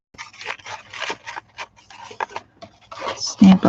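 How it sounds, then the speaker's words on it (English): Scissors snip through cardstock to cut out a small stamped paper figure for a greeting card, giving short crisp cuts close by, mixed with light rustling and a voice talking. "I'm going to cut her out again"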